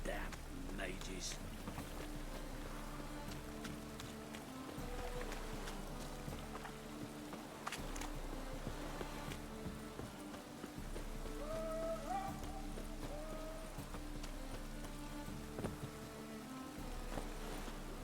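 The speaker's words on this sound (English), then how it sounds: "Rain again" Steady rain patters across the open world of The Witcher 3: Wild Hunt, a dense constant wash over a low game soundtrack, with a voice talking now and then over the downpour.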